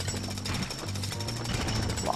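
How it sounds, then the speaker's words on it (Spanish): Pneumatic jackhammer smashing objects around a swimming pool in LEGO City Undercover, a loud rapid continuous hammering rattle up close, with game speech faintly underneath. "voy a utilizar mi martillo neumático para destruir todo esto que tenemos alrededor de la piscina esta"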